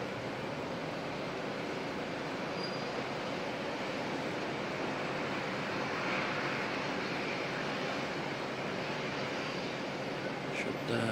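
Emirates widebody airliner on approach to land at Auckland Airport in crosswinds, a steady broadband jet roar holding at an even level throughout, blended with wind noise.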